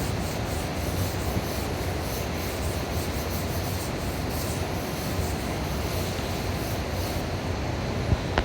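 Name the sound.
rubbing asphaltum markings off a lithography stone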